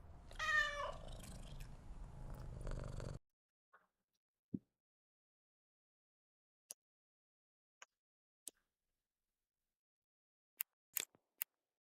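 A cat meows in a short, close series of harmonic cries for about three seconds, then near-silence broken by a few faint scattered clicks and taps.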